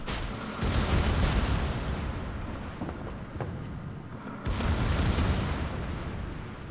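Torpedoes launch in a naval combat video game, two heavy booming bursts with a rumbling roar, one at the start and another midway, loud and close with a sustained low rumble between them and no talking.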